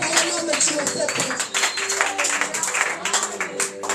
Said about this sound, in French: Est-ce qu'on peut donner des tonnerres d'applaudissements pour Dieu?